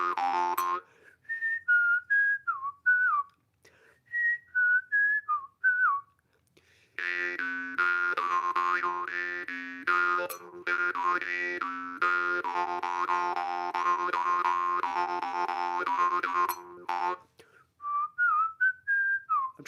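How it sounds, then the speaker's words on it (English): A Dmitriev drimba jaw harp is played live in short melodic twangs that give way to long droning stretches, its buzzy, distorted whistle-like tone loud and close with brief pauses, no talking. "This is a Dmitriev Drimba."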